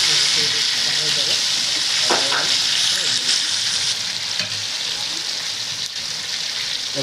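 Spice paste frying in hot oil for a home-style mushroom curry, giving a steady close sizzle and hiss throughout with a few brief stirring scrapes.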